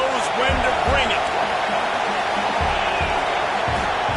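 A football stadium crowd roars in a steady, loud wash, with thumps and a commentator talking over the noise.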